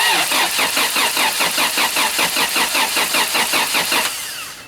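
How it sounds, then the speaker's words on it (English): Toyota Celica engine cranking on the starter during a cylinder compression test, with a rapid, even, rhythmic chugging that stays loud for about four seconds, then stops and fades away. "crank it over a couple times on each cylinder."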